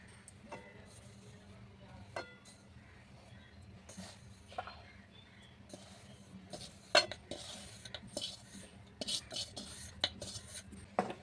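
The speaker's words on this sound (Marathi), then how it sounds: "ह्या तुपामध्ये ना आपण पीठ एकदम छान मंद आचेवर भाजून घ्यायचं आहे" Ragi flour is roasted in ghee in a wok over low heat for ragi laddu. There are soft, faint scrapes and scattered metallic clinks of a spatula against the pan over a quiet, low background.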